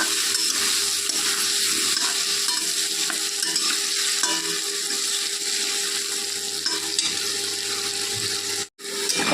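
Potato pieces frying in hot oil with salt and turmeric, a steady loud sizzle with faint stirring scrapes, continuous and close, briefly cut off near the end.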